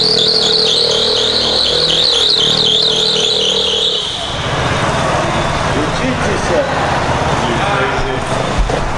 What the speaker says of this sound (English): Pops decided to do a couple of donuts around here